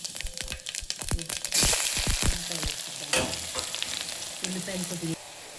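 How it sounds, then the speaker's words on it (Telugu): Cumin and fenugreek seeds sputter and crackle in hot oil for a tempering, with sharp popping bursts at first settling into a steady close sizzle. "ఇప్పుడు ఫస్ట్ జీలకర్ర, మెంతులు తాలింపులు వేసుకుందాము. అవి చిటపటలు ఆడుతున్నాయి కదా."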